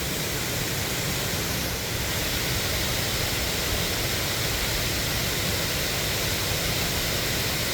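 Waterfalls in Cherokee, North Carolina give off a dense, continuous rushing roar that stays loud and even throughout, with no voices.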